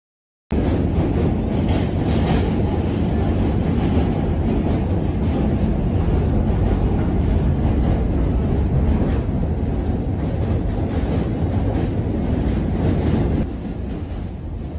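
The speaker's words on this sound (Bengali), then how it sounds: "কিংস হাইওয়ে স্টেশন থেকে এন ট্রেন ধরে আমরা চলে যাচ্ছি সোজা ম্যানহাটনে" A New York subway N train running from Brooklyn toward Manhattan, heard from inside as a loud, continuous roar of rails and wheels with faint clatter, dropping slightly near the end.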